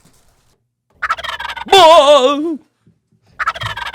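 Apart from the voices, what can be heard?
turkey gobble sound effect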